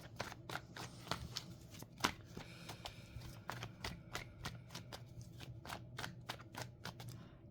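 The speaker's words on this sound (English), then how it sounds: "Throw those cards away." Rapid card-handling sound from a card video game as cards are discarded: a quick run of crisp, evenly spaced snaps and flicks, close and fairly quiet, with no talking.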